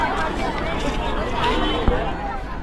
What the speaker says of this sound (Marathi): आज संडे असल्यामुळे गर्दी बघा